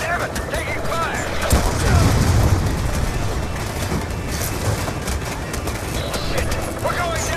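Dense gunfire roars through a convoy attack in Black Ops II, continuous loud bursts and booms layered with wind and engine rumble, while voices shout over the battle.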